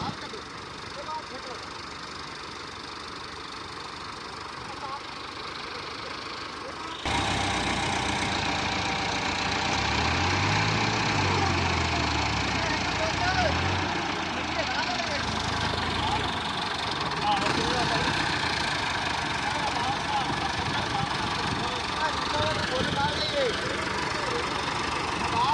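A 385 tractor's engine runs steadily while the machine sits stuck, its rear end sunk; the drone grows louder and fuller partway through, with rising and falling low revving, and voices talk over it.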